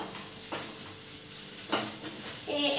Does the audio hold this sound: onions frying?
yes